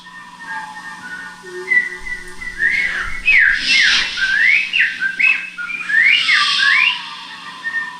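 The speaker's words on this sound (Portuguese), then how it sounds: "ele começou a ouvir som de pássaros" Bright, high whistled birdsong in quick rising and falling phrases over a faint steady hum, with a brief low rumble partway through.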